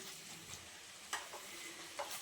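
Egg and poppy seed dish frying in a pan, a soft steady sizzle with occasional stirring scrapes and a couple of light clinks, close and fairly quiet with no talking.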